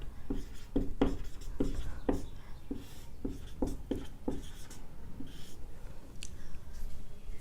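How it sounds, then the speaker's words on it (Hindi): Chalk or pen writes on a board during a history class, giving a series of distinct scratchy strokes in uneven rhythm, close and fairly clear over a faint room background. "मैं इधर वेद लिखती हूँ,"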